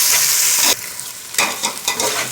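Chopped mint leaves are stirred into a pot of sizzling coconut milk rice masala, with loud frying hiss and a few scraping stirs and pauses close by.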